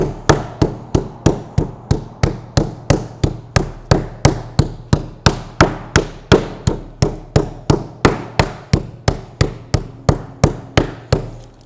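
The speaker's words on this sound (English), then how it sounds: "we're not just whacking straight down, we're actually pushing as we hit to spread those meat fibers out" A meat mallet pounds a thick end of flank steak in a fast, even rhythm of about three blows per second, each a loud, close, sharp thwack with a short decay, continuing for over ten seconds with no talk.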